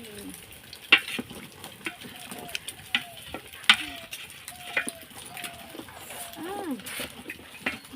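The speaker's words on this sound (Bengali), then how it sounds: "আলু ভাতি ডিম ভেজে ছেড়ে দিব। এখন ডিম ভেজে নিচ্ছি।" Duck eggs frying in a pan for a potato curry give a steady sizzle with sharp clicks and scrapes of stirring, heard under nearby voices talking.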